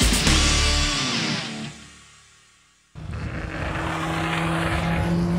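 Racing motorcycles lapping the Donington Park circuit during a magazine road test, engines loud and roaring at high revs, fading away briefly before another bike roars back close by.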